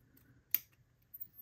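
Scissors snip once into a fabric corner, a single crisp cut in an otherwise quiet room, followed by a faint softer click.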